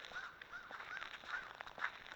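Crows caw repeatedly outdoors, several short harsh calls spaced about half a second apart, fairly faint and somewhat distant against a steady background hiss.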